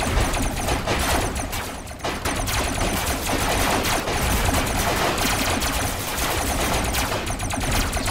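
Robot vehicles trade sustained gunfire in Robocraft video game combat, a dense continuous barrage of rapid shots and impacts filling the whole stretch at steady loudness.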